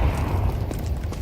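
A grenade blast during a competitive Counter-Strike match at the Austin Major 2025, a dense low rumble that fills the whole short moment at steady loudness with no voices.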